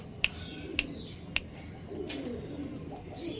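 Old-line Star Kalanka pigeons coo softly nearby, with three sharp clicks early on and faint low murmuring beneath.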